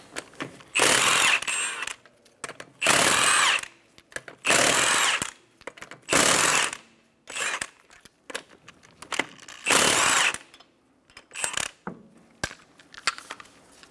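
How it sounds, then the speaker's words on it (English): A power impact tool with a 19mm socket spins off the five lug nuts from a 2012-2020 Chevrolet Sonic front wheel, loud repeated whirring bursts of a second or so, separated by short pauses. "Using a 19mm socket, remove the 5 lug nuts."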